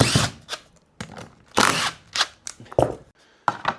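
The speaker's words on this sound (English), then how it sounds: "go and drill this out to within an inch of its life" Bursts of a power drill biting into a wooden SG-style guitar body to hollow out a cavity, short irregular whirs separated by pauses, close and fairly loud.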